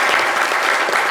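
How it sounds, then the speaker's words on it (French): A radio studio audience breaks into loud, dense applause for a phone-in caller, a short and sustained burst of clapping heard close up. "applaudissez pour Do Igor"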